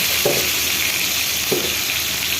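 Oil sizzling in a pan while cooking stinging catfish: a steady, close frying hiss with two soft stirring scrapes, no voices.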